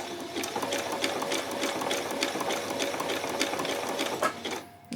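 A sewing machine runs steadily while sewing on a button, a close, continuous mechanical whir with a fast stitching rhythm that stops abruptly near the end, with no talk over it.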